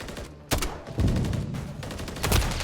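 JAK Thumper weapon in the video game MW3 launching shots, a few sharp punchy bursts with rumbling impacts and reverberant tails spread over under three seconds, no voices.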